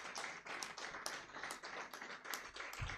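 An audience claps for a report team at a rule-of-law quarterly report event, a brief patter of applause that is faint, with distinct individual claps.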